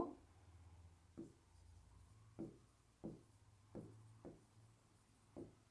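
Chalk or marker strokes on a board during a mathematics lecture, a series of separate scratchy taps and short scrawls arriving in an uneven rhythm, close and moderately quiet, with no talking.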